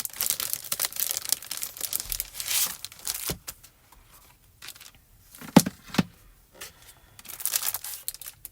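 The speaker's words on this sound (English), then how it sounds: "Let me grab some of that Spellbinders Color Essential card stock." Spellbinders Color Essential card stock is handled, with crinkling, rustling and sliding paper sounds coming in irregular bursts between quiet gaps, close and soft.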